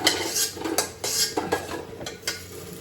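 Lentil dumplings (bori) being fried in a pan and turned with a metal utensil, sharp scraping clinks and knocks against the pan at an uneven pace over a faint sizzle, with no talking.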